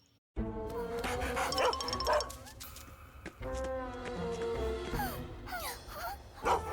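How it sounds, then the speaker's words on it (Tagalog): A cartoon dog barks several times amid busy cartoon-style sound effects and music, the barks sharp and fairly close. "Isang aso na serbisyo!"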